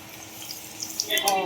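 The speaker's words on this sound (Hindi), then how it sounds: "अभी इसको ऐसे ही गोल्डन ब्राउन होते तक इसको ऐसे ही फ्राई करेंगे" Dough balls for Rajasthani dal bati churma frying in a pan give a soft sizzle that builds toward the end, with a few light stirring clinks close by.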